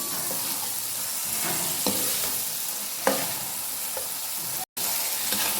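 Green peas frying in a pan for an aloo matar gajar sabzi, a steady close sizzle with scraping stir strokes throughout and a brief break near the end.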